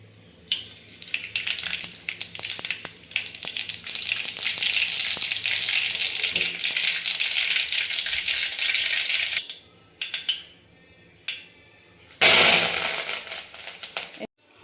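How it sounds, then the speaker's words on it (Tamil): Curry leaves and mustard seeds tempered in hot oil and poured into simmering sambar, a loud close crackling sizzle that cuts off, followed by scattered clinks and a brief final sizzling burst. "எண்ணெய் காஞ்சதும் ஒரு கொத்து கருவேப்பிலை, அப்புறம் கொஞ்சம் கடுகு போட்டு தாளித்து இதை நம்ம கொட்டிடணும்"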